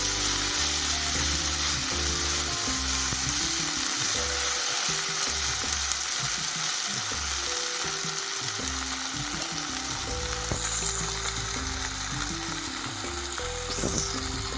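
A pounded paste of ginger, green chilli and onion fries hard in hot oil, a loud, constant sizzle with occasional stirring and a low mechanical hum beneath, no talking.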